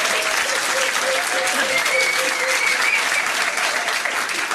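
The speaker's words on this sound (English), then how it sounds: "Give them a huge round of applause." Steady, dense applause from the audience at a trivia quiz night at The Yard, loud and continuous throughout, with faint voices mixed in underneath.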